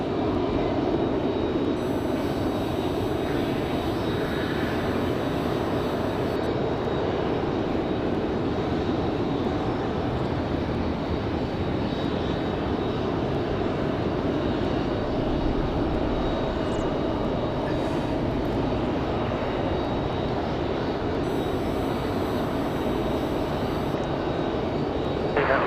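An airplane landing at Raleigh Durham International Airport fills the air with a continuous, loud roar of engine noise and broad rushing wind, steady throughout with no talk.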